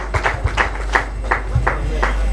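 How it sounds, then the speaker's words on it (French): Sparse, rhythmic clapping from a small audience at a gala evening in DR Congo, greeting Madame Thérèse Poiti; about eight distinct claps in a steady beat over a low hum, with no voices. "applaudissons quand même"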